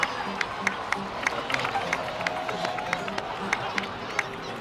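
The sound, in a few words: applause for heroes in Genshin Impact video game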